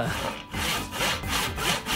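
A sharp saw cuts through wood in steady, rapid back-and-forth strokes, loud and close, with a raspy grinding texture and no voices.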